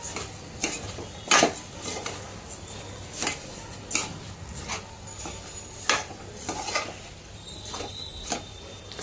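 Spinach rice being mixed with ginger-garlic-chili paste in a pan, repeated scraping and clinking of a spoon against metal over a low sizzle, close and irregular.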